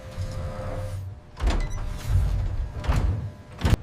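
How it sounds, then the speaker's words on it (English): A heavy 20-ton door on a curing chamber in a B-21 stealth bomber factory seals with several deep mechanical thunks and whirring motor surges, moderately loud and close, with no talking. "The 20-ton door seals, preparing for cure cycle initiation."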